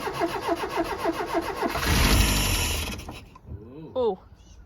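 A rusty barn-find Ford engine cranks with a rapid rhythmic starter whir, then catches and roars briefly before settling. Loud and close, followed by a short exclamation from a voice.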